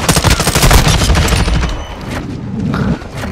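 Heavy Modern Warfare 2 gunfire against a riot-shield carrier: loud, rapid automatic bursts with punchy low thumps, thinning slightly toward the end with a few separate shots.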